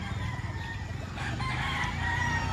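A gamecock stag crows on a game farm in Balayan, Batangas, a single loud nearby crow running steadily over the clip with a constant farmyard hum beneath it.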